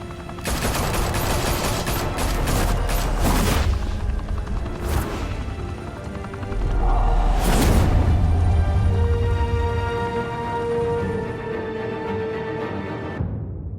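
Rapid bursts of automatic gunfire and booming shots in the Batman: The Telltale Series video game, loud and dense throughout, with a heavy blast near the middle and a lingering rumble afterward.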